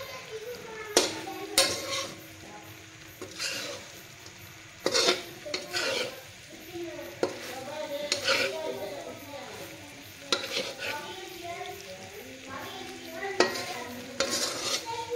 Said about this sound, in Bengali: তো এইভাবে নাড়িয়ে চাড়িয়ে নিতে হবে